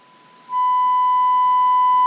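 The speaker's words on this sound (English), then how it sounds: "that's because I have a sine wave playing" A steady pure sine-wave test tone from a portable audio tester plays alone, starting quietly and then jumping much louder after half a second, holding a constant pitch to the end.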